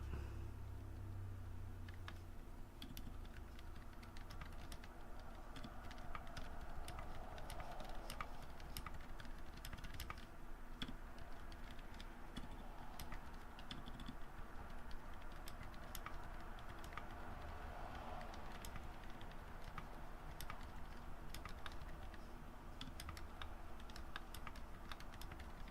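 Keystrokes on a keyboard fitted with Outemu Honey Peach V2 linear switches, a steady stream of soft, muted, dense typing heard close and alone over faint background traffic.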